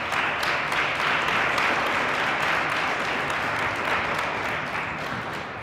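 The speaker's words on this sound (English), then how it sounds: "let's give up another round of applause for Ms. LaShea Dixon as she comes." Full, sustained applause from an audience at an elementary school DARE graduation ceremony, steady and dense crowd clapping that tapers slightly near the end, with no speech.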